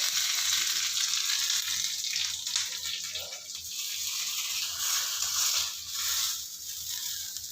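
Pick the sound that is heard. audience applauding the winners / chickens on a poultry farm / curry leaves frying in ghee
curry leaves frying in ghee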